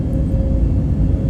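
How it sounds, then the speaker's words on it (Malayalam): Steady low rumble of an Emirates airliner cabin just after landing, a continuous loud engine and airframe drone with no voices. "ഫൈനലി നമ്മുടെ ഫ്ലൈറ്റ് ലാൻഡ് ചെയ്തു ഗൈസ്"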